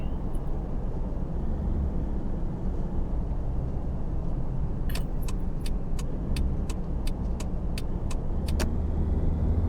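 A car in the Taxi Life driving game cruises at night with a steady, loud engine and road drone, while a regular series of sharp ticks, like an indicator, runs through the second half.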